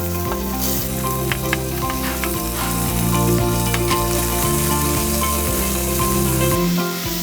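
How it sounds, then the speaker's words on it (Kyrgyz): Meat frying in oil in a pot gives a loud, continuous sizzle with crackles throughout, close and steady, under faint utensil clinks and stirring. "Биринчи очередь биз этти кууруп алабыз."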